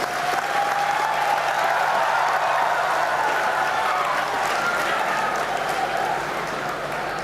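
Sustained applause from a large audience at a university convocation honoring leadership and graduates, a dense, steady wash of clapping that tapers slightly at the end.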